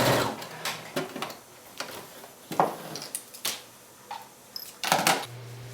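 Sewing machine stitching a seam in Kunin felt for a clutch purse, quiet close bursts of rapid mechanical whirring in short separate runs with small pauses and clicks between them.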